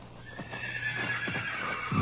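A horse whinnies loudly in a moonlit Texas Rangers radio drama, its long neigh held over repeated hoof clops, with a heavier thud near the end.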